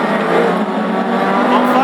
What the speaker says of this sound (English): 2 red cars go hurtling down the home straight for the second time of asking